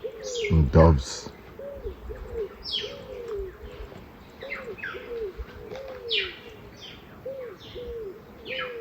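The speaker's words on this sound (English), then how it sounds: "And doves." Doves coo in a rainforest, a repeated series of soft, even calls at a steady rhythm over about nine seconds, with higher bird chirps scattered above and one loud burst near the start.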